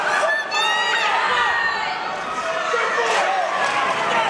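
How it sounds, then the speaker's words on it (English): A boxing crowd cheers and shouts steadily during a late-round exchange of shots, the noise sitting just under a commentator's voice for the whole stretch. "But the crowd are absolutely loving it as we approach the last 10 seconds of round 6."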